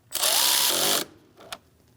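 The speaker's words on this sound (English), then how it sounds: "Have a good hold on it and tighten it down." Power tool whirring for about a second as the negative battery terminal nut is tightened on a 2000-2006 Mini Cooper 1.6L L4, followed by a brief softer burst.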